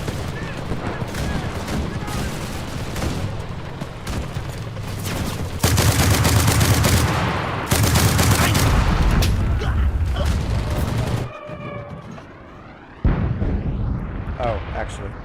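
Gunfire rattles in the World War II shooter game Enlisted, dense bursts and booming shots in a busy battle mix that swells and drops, with an excited voice talking over the action.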